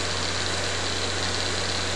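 Pulse motor rotor spins steadily at about 2,465 RPM, a continuous even hum with a strong low tone and broad hiss, unchanging and close throughout.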